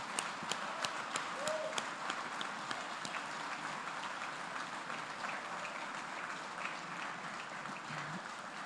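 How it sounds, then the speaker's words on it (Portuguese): A church congregation applauds, faint and distant, with a few sharper claps at the start before the sound settles into soft, continuous clapping. "vamos também bater uma forte salva de palmas"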